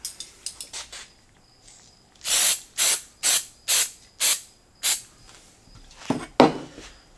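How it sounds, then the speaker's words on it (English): Glue accelerator sprayed from an aerosol onto a wooden part for a 3D pantograph, heard as a few quick light clicks followed by six close, evenly spaced hissing bursts and a final shorter spray. "now I'll spray the accelerator onto the top"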